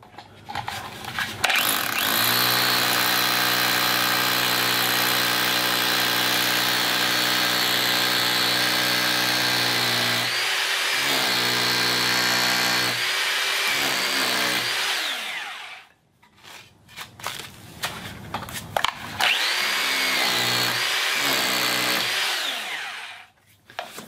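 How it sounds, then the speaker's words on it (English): A hammer drill drilling into concrete runs loudly and steadily for several seconds, stops, then whirs again in a few short bursts. "So I'm going to drill just into the concrete"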